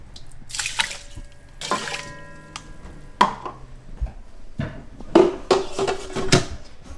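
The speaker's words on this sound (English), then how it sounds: "Rinse rice." Rice is rinsed under running water for a vegan meal prep, with irregular bursts of splashing and pouring water alternating with quieter drips and a few knocks, close by.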